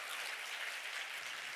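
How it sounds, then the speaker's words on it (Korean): Sustained, dense applause from a church congregation at a pastors' gathering, steady and fairly loud throughout with no pauses or talk. "박수는 지금 해야 되는 거야."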